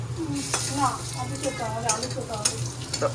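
Teasel gourd and potato slices fry in hot oil with a steady sizzle, broken by scraping stirs of a spatula in the pan at close range.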